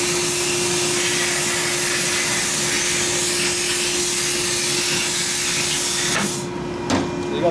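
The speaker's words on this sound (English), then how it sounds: "I like blasting valve guides so I get all the crap off so the seals can stick to it" Bead blasting the valve guides of a Harley-Davidson Twin Cam 110ci cylinder head from a 2017 Dyna, a loud steady hiss of blast media and air running continuously before cutting off near the end.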